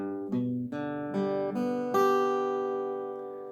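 Open major guitar chord notes plucked one after another, each ringing on and building into a sustained chord that slowly fades.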